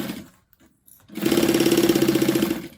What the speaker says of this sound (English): I'm sewing the lining up just like I did the exterior